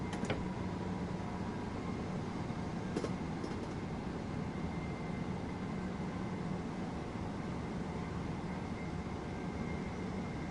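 A simulated train runs steadily in the Train Sim World 2 game, with a continuous rumbling drone and faint wheel and rail noise. A few brief clicks come near the start, and no one speaks.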